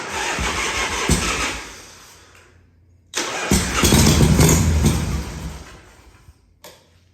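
A 1978 Harley-Davidson Shovelhead FXS Lowrider engine cranks and sputters to life on its first start, runs roughly for a couple of seconds, dies, then catches again briefly before cutting out.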